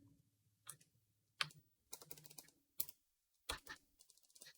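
Computer keyboard typing, heard as several short bursts of crisp, close key clicks with brief quiet gaps between them, fairly soft overall and without talk.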